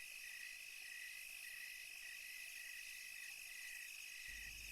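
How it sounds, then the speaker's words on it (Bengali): Crickets chirp steadily in the dark night, a faint high continuous trill with even pulsing, heard alone with a soft thump at the very end. "ঝিঝি পোকাগুলো সমান তালে ডেকেই চলেছে"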